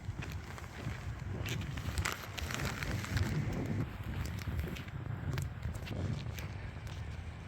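Wind buffets the microphone at Suma Beach in Kobe, a constant rough, rumbling roar with gusty swells that stays loud and unbroken throughout, with no voices.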